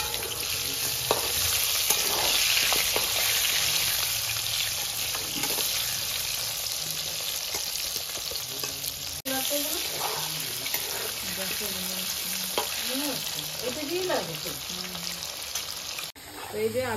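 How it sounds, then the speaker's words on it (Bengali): Potatoes sizzle and crackle in hot oil for a stingray fish curry, a continuous close frying hiss with stirring scrapes and occasional faint voice-like sounds underneath. "এবার এই তেলে আমি আলুগুলো ভেজে নিচ্ছি"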